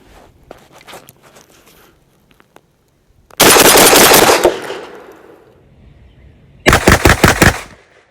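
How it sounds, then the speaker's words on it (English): Rapid bursts of high-velocity 12 gauge slugs fired from a Rock Island Armory VR80 semi-automatic shotgun: a loud string of shots, then a pause and a second quick volley, with faint handling clicks before. "Now, see if we can't do a little rapid fire with these high velocity slugs."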